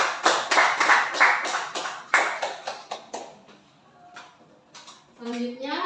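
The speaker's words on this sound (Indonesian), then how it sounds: "Beri tepuk tangan." A classroom group claps in a short burst of brisk hand claps that fades out, followed by scattered knocks and a voice rising near the end.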